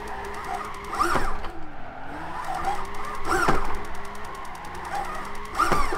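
A Nissan 370Z drifting in Gran Turismo 5 gives off repeated sharp tire squeals in three bursts about two seconds apart. An engine note rises and falls beneath them, and no one speaks.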